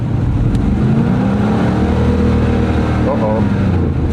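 A Chevrolet Camaro engine idles fast and steady just after a cold start, with a low, continuous drone that holds high revs. It is loud and close, and a voice briefly speaks over it near the end.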